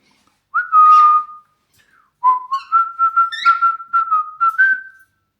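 Clear whistling by a pet bird, with one long sustained note, then a pause and a run of short chirpy whistled phrases, close and alone.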